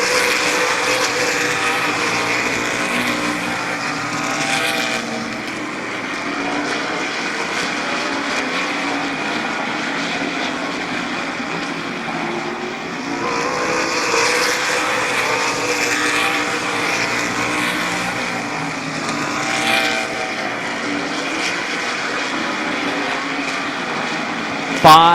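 Race cars circle Midvale Speedway in a continuous roaring drone that swells and fades as they sweep past in repeated waves, heard from a distance.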